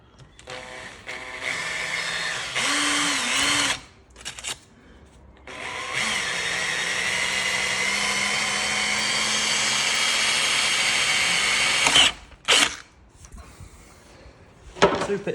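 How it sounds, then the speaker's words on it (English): A power drill bores a hole through a paper template into a BMW i3 panel, whirring loud and close in two long runs. A short burst comes first, then a sustained drill of about six seconds, followed by brief clicks. "So I'm just going to hold that there and drill straight through the piece of paper, and then that's our little hole."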